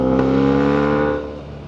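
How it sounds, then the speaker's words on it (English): A BMW R1300GS motorcycle fitted with Black Widow aftermarket downpipes and headers revs loudly and steadily up close, its deep rumbling exhaust holding strong before easing back toward a lower idle. "giving it a couple of revs from stock with the aftermarket Black Widow downpipes, headers"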